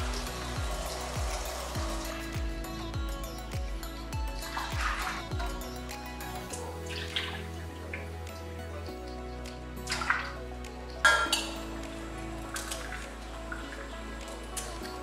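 Salted coriander being rinsed in water, with splashing and running water sounds and occasional clinks, close and continuous over a steady background hum.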